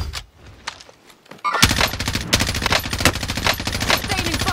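Rapid automatic gunfire in an online shooter game, quiet at first with scattered shots, then a loud sustained burst of close machine-gun fire running to the end.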